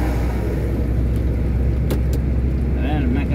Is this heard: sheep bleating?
no